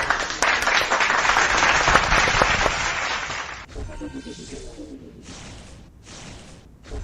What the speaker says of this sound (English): let's give everyone a hand of applause